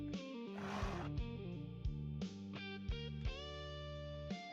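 A horse neighs in a video game, heard alone over a steady musical backdrop, with one breathy whinny burst early on and no voices.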